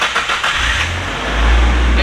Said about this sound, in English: I think it's stock exhaust. It's pretty quiet.